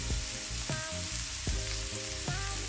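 A stick of Kerrygold butter sizzling in a pan alongside a chuck roast, steady close frying hiss punctuated by several sharp clanks and scrapes of a utensil against the pan.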